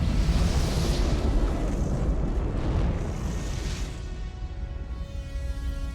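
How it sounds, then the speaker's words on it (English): Explosions filmed for the 1970 Antonioni film Zabriskie Point make a loud, continuous roaring rumble with deep booming low end that eases slightly toward the close. "these explosions were originally shot for the 1970 Antonioni film Zabriskie Point, but never used."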